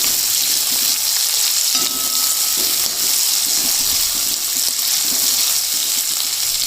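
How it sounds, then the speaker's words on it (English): Two large roughly sliced onions fry in a hot pan for a mushroom korma gravy, producing a loud, continuous, even sizzle with occasional soft stirring knocks. "we will have to brown these onions a little bit"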